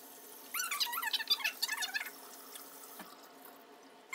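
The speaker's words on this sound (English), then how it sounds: "I am gonna go ahead and rinse it out now because I do have a lot of gunk in there" A Norwex counter cloth is rinsed and worked under a running tap, with a run of squeaky, wet rubbing squeals in the first half that fade into a faint trickle of water.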